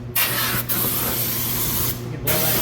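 Krown undercoating sprayed onto bare car metal under the hood, a loud close hissing spray in sustained bursts with two brief pauses, no talk.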